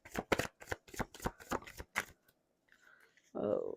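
Tarot cards are shuffled in a rapid series of crisp riffling snaps, close and fairly quiet, ending in a pause before a brief voice comes in.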